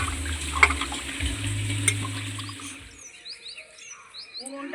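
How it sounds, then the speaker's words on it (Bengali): Fish being washed in water, with splashing and sloshing up close for the first three seconds, then stopping; birds chirp and tweet faintly in the outdoor background throughout. "মাছগুলোকে সব ভালো করে ধুয়ে নেব।"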